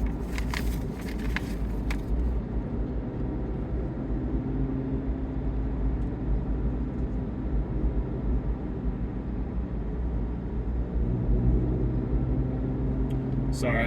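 Steady low rumble of a Chevrolet Corvette C8 Z06 being driven, heard from inside the cabin as a continuous drone with a few brief crackling clicks near the start and end.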